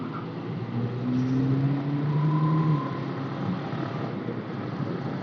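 BMW M2 passing on a road near Lonavala, a faint, distant engine note that swells and rises in pitch for a couple of seconds, then fades into low background hum.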